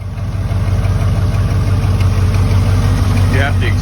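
A 1973 Ford F-100 pickup truck engine runs at a steady idle, a continuous low rumble held close and loud throughout with no revving.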